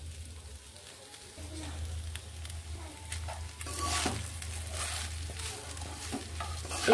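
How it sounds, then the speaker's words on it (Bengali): Rice and mixed vegetables are being stir-fried in a pan, with a steady low sizzle and scraping spatula strokes that grow a little louder midway, under a constant low hum. "এবার আমি এই সবগুলোকে একসঙ্গে মিশিয়ে এইভাবে নেড়ে কয়েক সেকেন্ড ভেজে নেব।"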